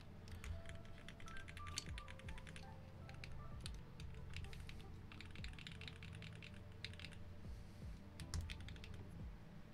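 Typing on a Hive60 mechanical keyboard with copper case and NK Yellow switches: a steady run of close, crisp key clacks in uneven bursts with brief pauses and a low background hum, no voices.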